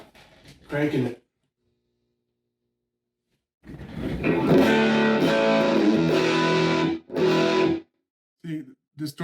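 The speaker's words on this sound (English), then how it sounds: "distortion kind of gets a little farty there" An electric guitar through a 1955 Magnatone valve amp strums heavily distorted chords for a few seconds, loud and fuzzy, with short bursts of sound before and after a silent gap.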